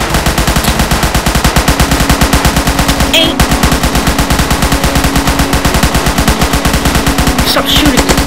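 Rapid automatic gunfire in the Roblox game Zombie Attack rattles loudly and nonstop, dense machine-gun bursts with a brief pause in the middle.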